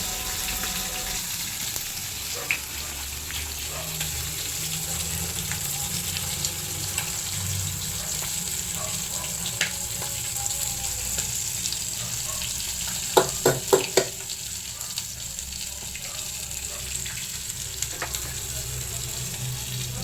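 Green chillies and curry leaves sizzle steadily in hot oil for khichri, a constant frying hiss with a few sharp clinks of a spoon stirring the pan near the end.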